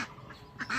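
Ducks kept in a village flock, including an old hen duck about ten to twelve years old, quack twice in short nearby bursts with a quiet pause between them.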